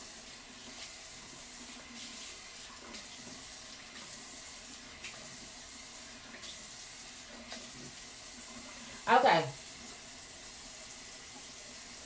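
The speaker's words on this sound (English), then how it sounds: "So first, I'm going to apply water to my face. Hot water." Hot water runs steadily from a bathroom tap as a soft continuous hiss, with a brief louder splash near the end as it is splashed onto a face; a single short word is spoken.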